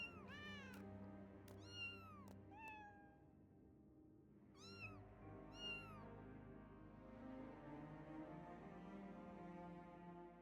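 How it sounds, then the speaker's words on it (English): Cat meowing in the video game Final Fantasy XIV, a run of several clear, rising-and-falling meows close up, bunched early then a couple more midway, over a steady background game music bed with no talking. "That was the cat."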